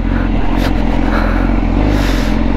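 A Honda CBR1000RR-R sportbike accelerates in first gear, its engine a loud, dense, continuous roar heard close up from the rider's position. Strong wind rush runs under it, and the tone steps down briefly near the end.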